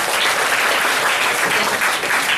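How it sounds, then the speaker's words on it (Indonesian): An audience at a church youth Christmas gathering claps steadily, a dense, loud burst of applause that holds evenly throughout without any speech. "tepuk tangan dulu ya untuk Kak Junius."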